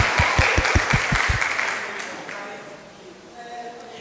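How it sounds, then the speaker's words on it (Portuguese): A burst of hand clapping from a group at a religious teaching session, with a few loud claps up front, then fading into a murmuring room. "um salve de palmas para os nossos ajudantes"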